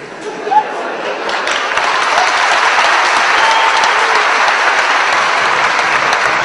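An audience applauds students from a Kyrgyzstan academic olympiad, the clapping starting with a few claps and quickly swelling into sustained, loud applause filling the hall.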